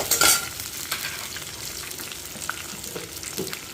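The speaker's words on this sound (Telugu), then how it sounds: "కొంచెం లైట్గా ఎరిగేటప్పుడు జీలకర్ర నువ్వులు వేద్దామండి" Cumin and sesame seeds roasting in a hot pan, a steady close crackling sizzle with a louder burst at the start and light stirring scrapes throughout.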